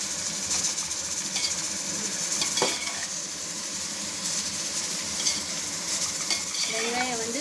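Onions sautéing in a pan for mutton biryani give a steady broadband sizzle with occasional stirring scrapes and clinks, moderately loud and close, with no speech.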